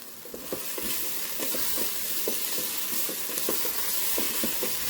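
Sauce cooks in a Ninja Speedi, a steady close sizzle and hiss with soft rhythmic stirring taps running through it.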